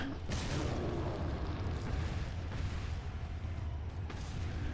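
Grenade blasts in the video game Resident Evil 4: Separate Ways give a muffled, rumbling boom with a dense wash of low noise and a few sharper bursts, heard fairly quietly with no voice over it.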